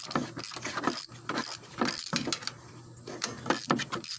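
Ratchet with a 12mm socket loosens a starter bolt on a 708cc Troy-Bilt lawn mower engine, making close, repeated clicking strokes in an uneven rhythm with small metallic clinks between them.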